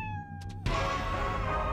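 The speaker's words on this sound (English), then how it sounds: "It's a kitty." A pet cat in the video game Fallout Shelter gives a couple of short, soft meows, quickly drowned by a loud, steady burst of game noise that carries on to the end.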